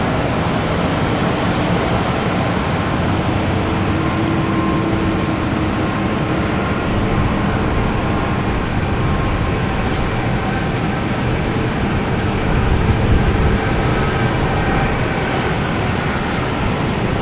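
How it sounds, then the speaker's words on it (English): JetBlue Airbus A220 arriving from Dallas-Fort Worth to land at Boston Logan, a loud steady broadband roar of jet engines sustained throughout, no talking. "Next coming in is JetBlue, an A220,"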